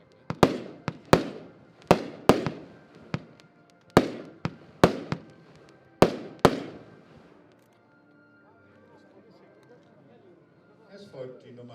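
Fireworks from a Diamond Feuerwerk display go off in about a dozen sharp, loud reports spread over six seconds, then fade to quiet with faint voices near the end.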